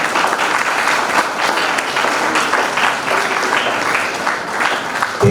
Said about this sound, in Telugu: అందరూ కూడా చప్పట్లతోటి వారికి అభినందనలు తెలుపుకుంటున్నారు